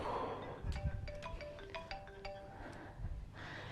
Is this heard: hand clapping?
no